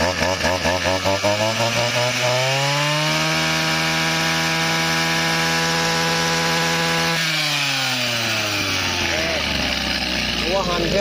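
A used Japanese Shindaiwa brush cutter engine revs loud and close, climbing to a sustained high whine, holding several seconds, then dropping back to a rough idle.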